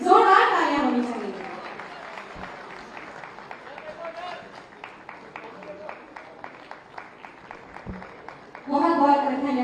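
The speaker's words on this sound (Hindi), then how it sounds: "इनके लिए जोरदार तालियां होनी चाहिए" An audience at a state day ceremony applauds in a rapid, rhythmic patter that follows a loud opening burst of voice and swells again at the end. A voice speaks over the start.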